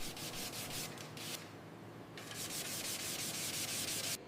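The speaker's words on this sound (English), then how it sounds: "Fine sanding creates a clean surface for the new finish." Fine sanding of a motorcycle frame during a rust-to-revival restoration, a close, steady abrasive rasp in repeated back-and-forth strokes, with a short pause before the strokes resume, and no talking.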